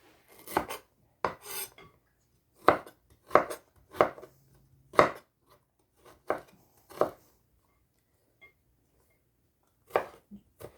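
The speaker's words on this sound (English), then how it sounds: "So right now, I'm just gonna cut up the rest of this." Knife chopping on a cutting board while preparing ingredients for Thai chicken and green mango salad: about a dozen sharp, close thunks in uneven bursts with short pauses between them, no talking.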